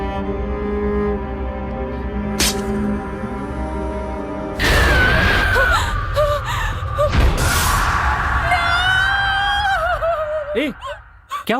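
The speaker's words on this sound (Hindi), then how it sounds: "चिल्ला क्यों रही हो?" A woman screams in alarm at a cockroach in a bachelor's home, a sudden loud shrill cry starting midway that rises and wavers over several seconds, with music and commotion around it.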